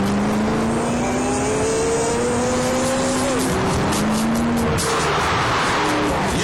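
A Ford GT sports car drives hard, its engine loud and close with rising and falling revs across gear changes and a brief tyre squeal.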